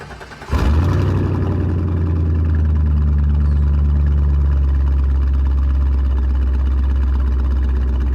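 A Corvette C5 with its mufflers deleted cold-starts after a brief crank, barking up loudly and then settling into a deep, raspy, high idle that holds steady and close until the end.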